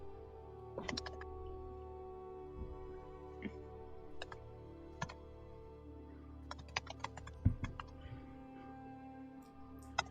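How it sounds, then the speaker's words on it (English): Typing on a computer keyboard, with scattered light key clicks in irregular bursts and pauses over a low steady background hum, quiet and close. "That is all the typing I needed to do."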